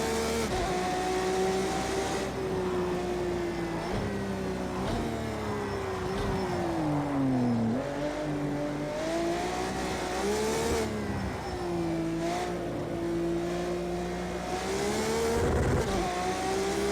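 Road car engine in Project CARS 2 revving and shifting continuously, pitch rising and falling through gears at steady close loudness with no talk over it.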